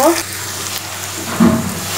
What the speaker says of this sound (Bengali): এই তো সামান্য পানি দিলাম, বেশি দিব না